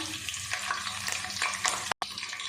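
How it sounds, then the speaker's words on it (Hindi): Chopped garlic and green chillies spit and crackle in hot ghee, a dense, close frying sizzle with sharp pops throughout and a split-second dropout near the end. "अब इसमें डाल देंगे 1 टेबलस्पून कटा हुआ लहसुन और 2 बड़ी हरी मिर्चें थी"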